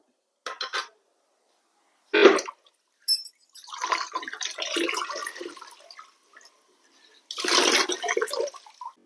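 Lizol floor cleaner is poured into a bucket of water, giving a short splashy pour amid intermittent watery sloshing and clanks of the bucket, each burst separated by silence.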